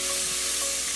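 Beef being tossed in a hot frying pan for beef and broccoli, giving a steady, close, continuous sizzle with no talking.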